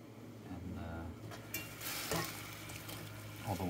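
A pot on a gas stove bubbles and sizzles while a spoon stirs through it, a continuous close frying hiss with soft scraping bursts and a few clinks near the end.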